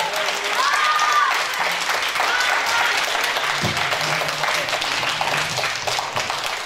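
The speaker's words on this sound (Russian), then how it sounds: "спасибо за ваши аплодисменты" Audience applause at a San Marino music festival following a Belarusian folk instrument ensemble's performance, a sustained dense clapping that swells early and then holds steady and loud, with a voice speaking briefly over it.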